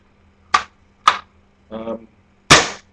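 Echo1 M28 airsoft sniper rifle firing at about 530 FPS, two sharp loud cracks a half second apart, a softer mechanical rasp of the bolt being cycled, then a third loud snap with a brief tail.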